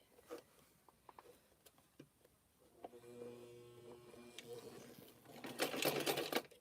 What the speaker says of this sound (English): I'm using an old sewing machine today